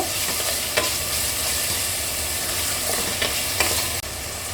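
Tomatoes sauté in a pan for a pulao, with a loud, continuous sizzle and the scrape and clatter of a spoon stirring through it, no voices.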